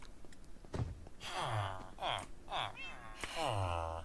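A cat meows several times in a row, drawn-out rising and falling cries that come fairly close and clear, with a few soft knocks in between.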